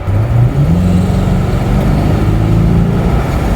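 Twin-turbo C8 Corvette with Hooker exhaust in quiet mode, a low, steady, smooth engine drone with a slight pitch rise early on, muted and continuous, with no voices.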